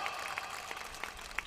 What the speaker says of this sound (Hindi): इसलिए आप एक बार सावित्रीबाई के लिए भी ताली बजाओ